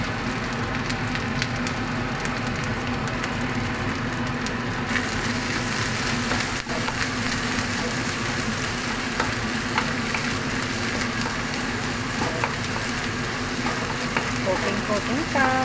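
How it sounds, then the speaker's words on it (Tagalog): Curry leaves fry in hot oil in a pan for chicken curry, giving a steady, close, crackling sizzle with scattered pops throughout. "ilagay na natin yung ating curry leaves. Kasama natin siya sa pag-fry."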